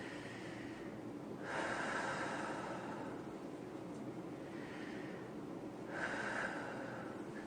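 Two deep, noisy inhaling breaths demonstrating breath intake for singing, each a long airy rush swelling for about a second and a half, close to the mic with quiet pauses between.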